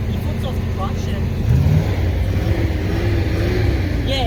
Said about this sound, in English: we now have the car running.